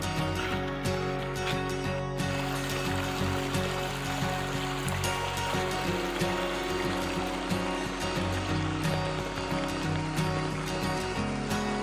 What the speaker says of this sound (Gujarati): આ પાણી ઉપર પર્વતથી આવે છે, જોઈ લો।